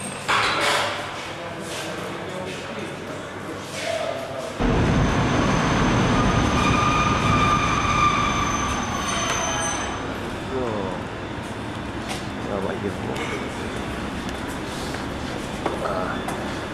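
Trains and station ambience at Küstrin station in November 1995, with rail rumble and wheel noise rising sharply partway through and carrying on loudly, a faint tonal squeal above, and talk mixed in throughout.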